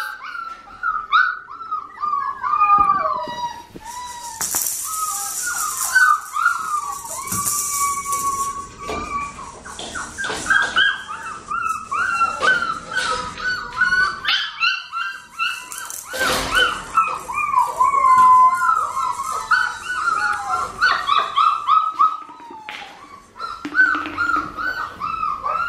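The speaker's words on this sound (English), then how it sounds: "He's wondering why these puppies are crying." Australian Shepherd puppies whimper and cry continuously in high, wavering whines, close and fairly loud, with occasional rustling.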